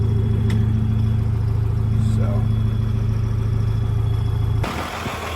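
A John Deere 4240 tractor with its original engine idles up close, a steady low rumble running evenly for several seconds before cutting out near the end.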